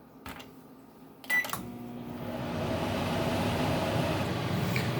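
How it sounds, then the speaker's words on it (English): A microwave oven running, a low steady hum and whir that builds after a couple of clicks and a short beep, continuing evenly and moderately loud. "And now into the microwave."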